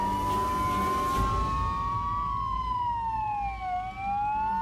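A police car siren wails outside, its rising and falling tone loud and steady over a low rumble of traffic, sweeping up and down across the whole stretch.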